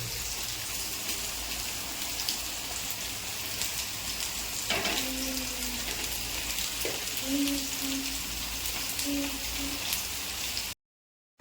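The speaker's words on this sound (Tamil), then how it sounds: "பாருங்கள் ஒரு பக்கம் ஃபிஷ் ஃப்ரை ஒரு பக்கம் எறா ஃப்ரை" Fish and prawns frying side by side in oil in a pan at an outdoor village cooking setup, a continuous dense rain-like sizzle with a few brief tonal squeaks, steady and close.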